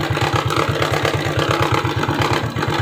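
Suzuki Shogun 125 motorcycle engine idles steadily close by, a loud, even, rapid low pulsing with a mechanical whir above it and no voices.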